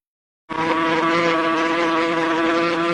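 A fly buzzes steadily and loudly, close up, starting abruptly after a brief silence and holding an even drone to the end, with no talking.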